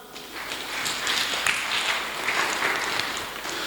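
A church congregation applauds and cheers during a Sunday service, steady crowd clapping sustained throughout at moderate loudness, with no speech over it.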